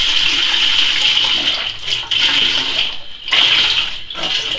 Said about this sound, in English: I'm going to add it straight in